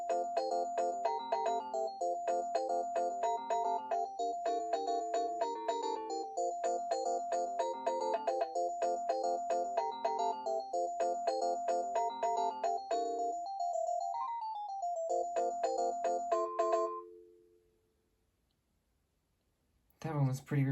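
Melodic electronic ringtone from a Panasonic KX-TG6841 cordless phone, a repeating tune of bright beeping notes with clicky tones, playing close and steady for about seventeen seconds before stopping.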